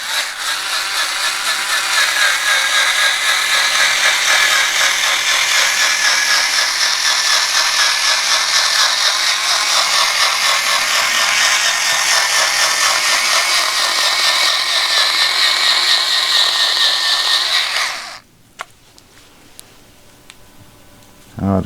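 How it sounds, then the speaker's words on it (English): A small powered cutting tool cuts through carpet for a Ranger boat's compartment lids, giving a loud, continuous rattling buzz for about eighteen seconds before it abruptly stops, leaving faint handling noises. "I'm going to see if my little cutting tool will cut this carpet"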